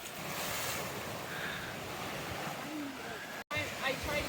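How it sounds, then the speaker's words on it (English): Waves wash against the shore of a national lakeshore, a continuous loud surf rush mixed with wind buffeting the microphone. "I tried to get a picture of the waves hitting and it stopped"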